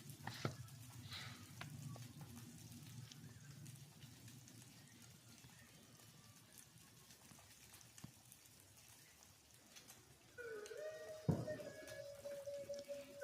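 Fish sizzling in hot oil in a pan, a faint steady crackle and spatter with a louder burst of frying near the end, no voices.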